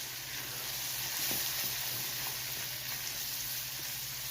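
Tomato chutney simmers in a pan on a low flame, giving a steady soft sizzle and bubbling with faint stirring scrapes and a constant low hum underneath.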